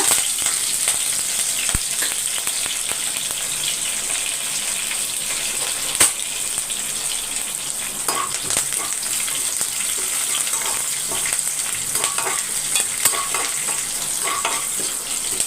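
Curry leaves, dried red chillies, fenugreek and dals frying in hot oil for tamarind rice, a steady loud sizzle with occasional pops and crackles, no voice over it.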